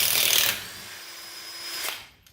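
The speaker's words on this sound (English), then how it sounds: "This Bauer impact, probably the best" A Bauer cordless impact wrench, used while fitting front coil spring lift spacers on a Ford E350 Econoline camper van, gives a loud burst, then a steady whining hum, a second louder burst and a quick stop.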